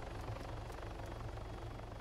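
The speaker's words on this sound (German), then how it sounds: "Wo ist der Heli? Direkt über uns." Helicopter hovering directly overhead in the King of the Hill video game, a steady loud rotor thrum with rhythmic low blade chop that runs without a break.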